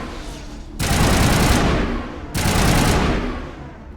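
Rapid sustained gunfire in the sci-fi shooter Mass Effect Legendary Edition comes in two loud, dense volleys, each lasting over a second, with quieter combat noise between them and no talk.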